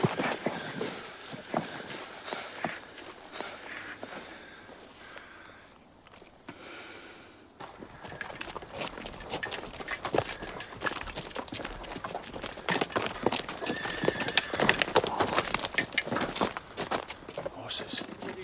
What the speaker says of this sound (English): Just horses.